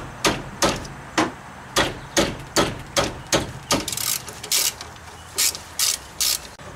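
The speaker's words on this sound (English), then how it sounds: "Next, I'm going to remove the caliper assembly." A ratchet clicks off the brake caliper bolts on a 2002 Mitsubishi Lancer with the tire removed, giving close, loud bursts of rapid ratcheting in a steady rhythm, with short pauses between strokes.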